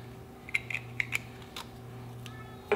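Small clicks from a Morimoto XB LED tail light connector snapping into place on a 2017-2022 Ford F250 Super Duty, a few sharp ticks over a steady low hum.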